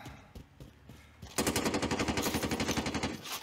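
Automatic gunfire in the battle-royale video game Call of Duty Warzone erupts after a quieter stretch, a loud, steady rapid burst of shots lasting about two seconds with no talk over it.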